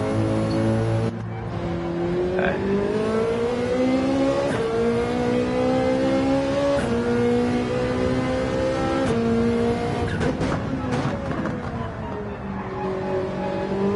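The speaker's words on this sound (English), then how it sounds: "So we are now on board with Matt in the Ferrari 458." Ferrari 458 race car heard from onboard at Mount Panorama, Bathurst, its engine screaming loud and close with steady high revs, rising and falling pitch through gear changes and brief lifts, sustained throughout.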